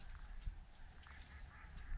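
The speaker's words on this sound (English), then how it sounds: "A lot of ducks returning to the marsh after feeding all night under the semi-full moon." Ducks quacking in a marsh at dawn as they return from feeding, faint, scattered calls over a low, steady background rumble, distant and quiet.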